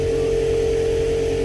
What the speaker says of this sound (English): Sorry for the noise, but I'm going to need the compressor on for this.